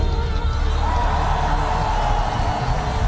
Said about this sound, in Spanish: Ahora dale un grito.